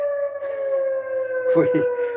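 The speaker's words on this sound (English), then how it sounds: "That is the bomb siren here at Bumblefork." Civil defense bomb siren sounding during a system test, a loud sustained wailing tone held steadily throughout, with a brief burst of voices breaking in near the end.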